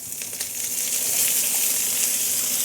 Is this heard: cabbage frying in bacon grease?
yes